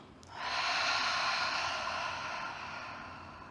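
A long, audible exhale during a beginner power yoga session, a breathy rush that swells quickly and slowly fades over a few seconds, close and alone.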